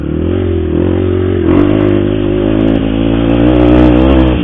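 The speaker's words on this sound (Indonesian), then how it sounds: "Siap buat gas lagi. Ini knalpot yang kemarin." A CRF motorcycle engine idles loudly close up through an aftermarket exhaust, its exhaust throbbing, then revs up briefly a couple of times before settling back.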